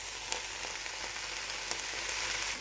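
Eggs hit a hot pan for egg fried rice, giving a steady, loud, continuous sizzle with no talk over it.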